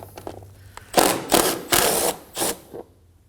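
A ratchet backs out a 10mm bolt on the radiator shroud of a 2016-2020 Kia Sorento 2.4L, giving four short, close bursts of rapid clicking before falling quiet.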